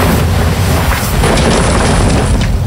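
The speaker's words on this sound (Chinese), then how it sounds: "随手一击就将元气大山轰碎了" Animated blast smashing a mountain in the Dragon Prince Yuan donghua: a loud, sustained booming roar of explosion and crumbling rock that stays heavy from start to finish.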